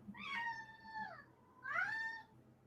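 A house cat meows twice, each a clear, fairly loud drawn-out cry with a short pause between them, in a quiet room with no talk.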